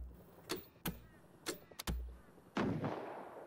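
Gunfire in the survival video game Rust: several sharp, separate shots cracking out at irregular intervals, followed by a longer rushing burst of noise, fairly faint overall.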